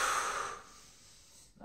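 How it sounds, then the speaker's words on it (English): Belly breathing during a dying bug core brace exercise, heard as a close, airy exhale that fades out over about half a second, leaving near silence before a faint sound at the end. "I don't want to be chest breathing, I want to be belly breathing."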